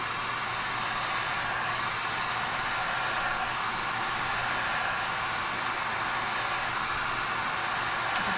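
Heat gun set to low heat and high air blows steadily over colored UV resin in clay molds, a constant broadband whoosh with a low hum, loud and unbroken throughout with no talking.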